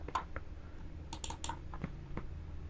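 Someone types text on a computer keyboard, producing quiet, irregular clicks of keystrokes in short bursts over a soft background hum.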